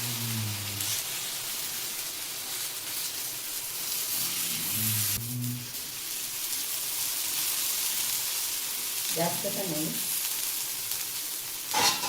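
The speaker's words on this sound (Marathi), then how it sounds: "आता तेल टाकून घ्यायचं आहे त्याच्यावर आणि हे थालीपीठाचं एकीकडनं थालीपीठ भाजायचं आहे" Thalipeeth, a Marathi flatbread of spring onion greens, frying in oil on a griddle gives a steady close sizzle throughout, with brief talk breaking in now and then.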